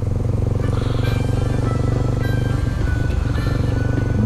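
A Kawasaki Z250SL, a 250 cc single-cylinder motorcycle, idles steadily up close, its engine throbbing loud and continuous for the whole stretch with no talk over it.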